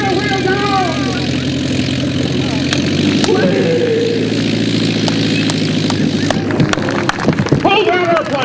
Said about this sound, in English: You got 2 wheels down. Get the tail wheel down. And they're landing.